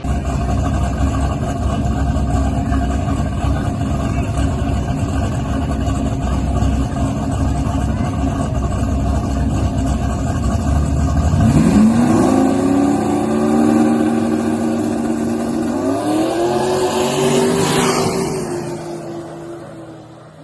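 A no-prep drag race car at a track idles with a rough, loud rumble, then its engine revs up sharply as it launches, climbing in pitch through the gears before fading toward the end.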